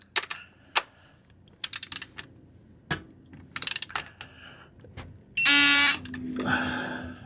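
A torque wrench ratchets in quick clicking bursts while tightening transmission pan bolts on a 2007 Mercedes E350 722.9 gearbox, followed by a brief loud electronic beep signalling the set torque, close up with no talking.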